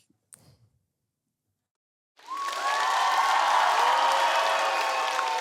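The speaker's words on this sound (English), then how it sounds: "all I did there was just a round of applause" A round of applause and cheering from a crowd rises suddenly after a short quiet stretch with a brief sound, then holds loud and steady to the end, with some whistling tones over the clapping.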